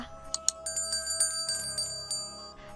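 A notification bell sound effect rings out in a quick series of bright, clear chimes and dings, close and alone with no talk, layered over a soft steady tone.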